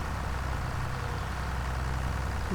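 A tractor idles in Farming Simulator 25, giving a steady, even low engine drone that runs unbroken and alone throughout.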